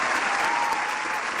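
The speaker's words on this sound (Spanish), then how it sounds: "Fuerte el aplauso." An audience at a Popu TV anniversary show applauds, giving a dense, steady clapping and cheering that fills the short moment.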